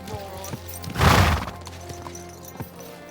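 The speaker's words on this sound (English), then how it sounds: "Is this your first time riding a horse, you moron?" Horse hooves clip-clopping during a ride in the video game Kingdom Come Deliverance 2, irregular close knocks with a loud whooshing burst near the middle.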